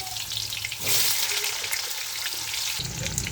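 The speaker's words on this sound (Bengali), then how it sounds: "আলু ভাজা হচ্ছে" Potato pieces frying in hot oil for a mutton dish give off a steady, close sizzle and crackle that runs throughout, with a brief louder burst near the start and no voices.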